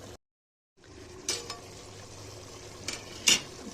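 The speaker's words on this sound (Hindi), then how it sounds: "अब अच्छे से मिक्स करेंगे और फ्राई कर लेंगे आधे घंटे तक मीट को" Meat fried in a pot with whole spices and fennel powder, a steady low sizzle broken by a few sharp metallic clinks of a spoon stirring against the pot, no talking.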